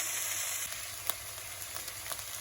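Cubed pumpkin cooking in an oiled pot, a faint continuous sizzle with a few light utensil clicks scattered through.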